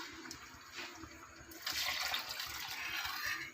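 Water poured into a cooking pot of black chickpea curry, a steady pouring and splashing wash that grows louder and fuller partway through, heard close up with no talking.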